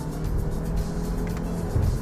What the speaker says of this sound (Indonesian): misalkan kita masukkan ke S, ya, kita downshift, ini dia seperti mobil biasa dan kita gas